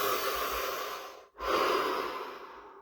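A deep breath during a guided relaxation exercise, close and airy: a long inhale, a brief pause, then a slow full exhale.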